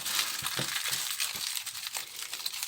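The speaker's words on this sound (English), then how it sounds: "Just by taking a piece of aluminum foil," A sheet of aluminum foil being crumpled by hand gives quiet, close crinkles and crunches in several short bursts, with no talking.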